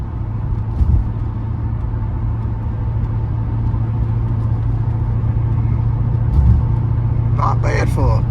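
A 1980 Porsche 928 engine hums steadily while driving under light throttle, a low continuous rumble from inside the car with brief talk over it near the end.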